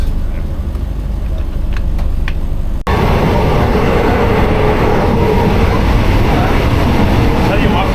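Loud, steady rumble of an express train rolling along the tracks in Thailand, with a sudden jump in noise partway through as the sound opens up.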